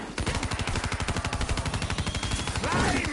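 Rapid automatic gunfire from a video game, a steady stream of loud, evenly spaced shots lasting throughout with no pause, close and dominant.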